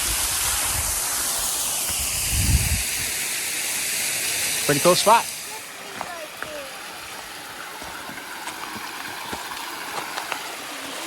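Waterfall in the snowy Ozarks: a steady rushing hiss of falling water that is strong at first and settles to a softer wash, with a man's short remark partway through.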